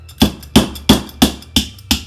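Six sharp, evenly spaced hammer blows drive a skewer down through a cake board during cake decorating, each strike loud, close and ringing briefly, with no talking.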